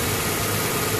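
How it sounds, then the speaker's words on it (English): A Lexus ES330 engine, heard at close range, gives a brief low rumbling drone as the gas pedal is pressed, with the sound steady throughout the short moment and no speech over it. "Now step on the gas."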